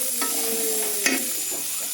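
Onions frying in a pan give off a steady, close sizzle, broken by a few light stirring scrapes.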